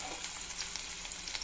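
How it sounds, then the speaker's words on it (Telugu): Chopped onions sizzle in hot oil in a pan, a close, even crackling fry with small bright pops throughout, no voices. "ఆయిల్ వేసుకున్న తర్వాత ఈ ఆనియన్స్ దీంట్లో వేసేద్దాం"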